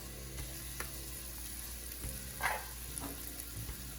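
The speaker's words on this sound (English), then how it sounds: "add your carrots in here as well as your black pepper" Carrots and black pepper sizzling in a pan with cabbage: a soft, steady frying hiss with light scraping and clinks from stirring, close but fairly quiet, with no talk.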